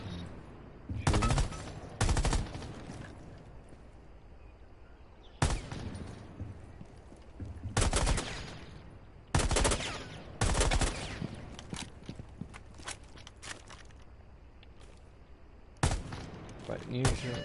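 Gunfire during target practice in Rainbow Six Siege, heard as several separate loud bursts of automatic shots spread across the clip with quieter game ambience between them, while a voice talks intermittently.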